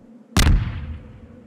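Grenade explosion in the video game Left 4 Dead 2, a single loud, sudden boom out of near quiet that rolls off into a long rumbling decay.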